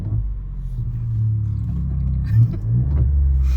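A modified VW Polo with a 1-litre three-cylinder turbo engine and dual-clutch gearbox runs at idle. The close, loud, throbbing low rumble holds steady, with a brief rise in revs partway through.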